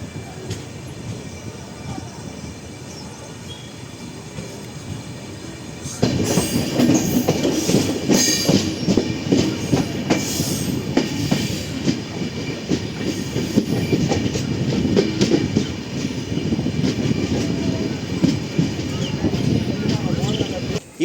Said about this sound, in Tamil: ட்ரெயின் கிளம்பிருச்சு வாங்க ஜெர்னியை கண்டினியூ பண்ணலாம்